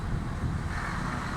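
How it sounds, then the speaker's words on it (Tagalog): Cold wind blowing beside a highway, a steady low rumble and broad hiss of buffeting air on the microphone, constant and unbroken with no voices. "Mabugnaw ang hangin."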